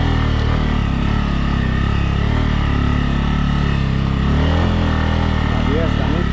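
Bajaj Pulsar N250 motorcycle ridden over a rough, stony road, giving a loud, steady engine drone with wind rumble throughout and a rider's voice talking over it.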